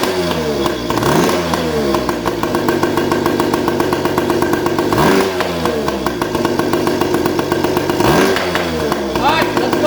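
A dirt bike engine warming up, running steadily and loud up close with a rough, throbbing idle and a few rising revs that fall back, spaced several seconds apart.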